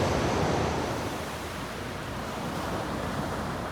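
Large Indian Ocean waves at Long Beach on Sri Lanka's southern tip: a steady, broad wash of surf, slightly stronger at first and then evenly rolling.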